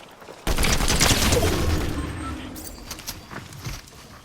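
Gunfire in the video game Fortnite, a loud sustained burst of shots starting abruptly and tapering into scattered fainter reports, with background game noise.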